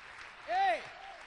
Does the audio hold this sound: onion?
no